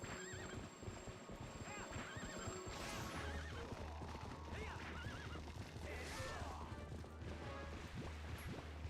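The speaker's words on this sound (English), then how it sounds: "He ran into Ganon's horse and got stopped a little bit" Horses gallop with fast clip-clop hoofbeats and loud neighs in Zelda: Twilight Princess during a horseback fight against Ganon, with crashes and game effects mixed in.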